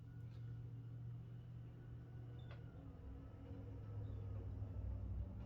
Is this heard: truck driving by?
yes